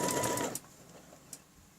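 A sewing machine stitches a quilting ruler pattern in a brief close whirring run of about half a second that stops abruptly, followed by quiet room tone and a faint click.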